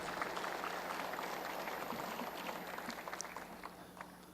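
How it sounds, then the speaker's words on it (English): Steady applause from a crowd at a State of the State address, a dense wash of clapping that continues throughout and slowly tapers toward the end. "Give them a round of applause."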